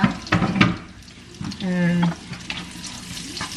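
Garlic sizzles steadily in a hot frying pan, with stirring scrapes and a few clatters of cookware over the constant crackle.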